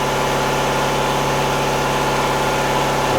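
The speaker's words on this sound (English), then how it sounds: "Sorry about the compressor" An air compressor runs steadily in a home workshop during a classic Mini repair, a loud continuous mechanical drone with fast regular pulsing, close and alone without talk.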